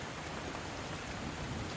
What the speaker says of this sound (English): is the rain still going?